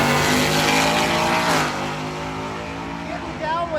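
A stick-shift truck driven with hand controls launches at a drag race, its engine roaring loud and close before easing back to a lower steady drone, with a brief rising whine near the end.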